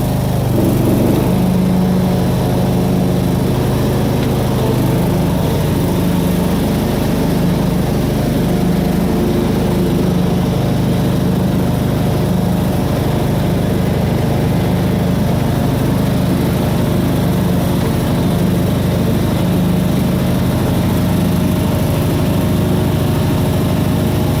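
A lawn mower engine runs steadily and loudly after a blade change, a constant close droning hum with no breaks for the whole stretch.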